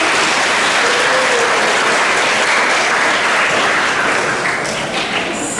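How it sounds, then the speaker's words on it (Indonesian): Loud, sustained applause fills a school hall as an audience opens a local-wisdom workshop on Dulmuluk theatre at a Palembang high school. The clapping stays dense and steady throughout, easing slightly near the end. "Ya, boleh tepuk tangan sebelumnya."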